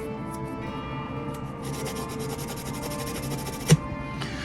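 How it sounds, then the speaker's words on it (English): Extremely fine grit sandpaper rubs over the plastic hull of a Revell 1:426 scale USS Arizona model, a steady soft scratching that continues alone with no talk, broken by one brief sharp tap near the end. "you do want those little curly cues to be sanded off"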